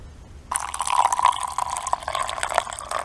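Hot water pours into a cup for Lipton black tea, a sudden close liquid stream that keeps splashing and filling steadily after a quiet start.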